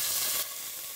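Large chunks of beef sirloin sizzle loudly in a pot, a bright frying hiss that suddenly drops to a softer steady sizzle partway through, with no talking.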